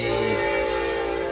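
A train rumbles by with a steady, sustained horn-like tone droning over the noise, continuous and fairly close.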